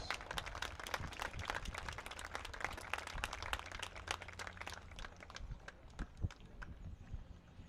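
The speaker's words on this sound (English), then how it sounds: "Let's give our 3 Stallions alumni a round of applause." Stadium crowd at a Buffalo Stallions vs. Erie Commodores NPSL soccer match applauding, a dense steady wash of clapping that carries on throughout, loud and fairly close.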